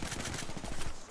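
A short, rapid burst of gunfire in the Apex Legends video game, with closely spaced shots rattling loudly for about a second.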